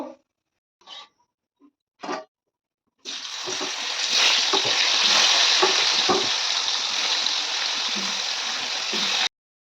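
Pumpkin slices frying in oil in a home kitchen, with a few brief knocks first, then a loud, steady sizzle that runs for about six seconds before cutting off.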